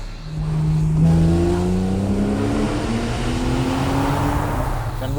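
A Porsche 911 Cabriolet engine drones steadily while driving, its tone rising and falling slightly with gear and throttle changes, close and loud with no voices.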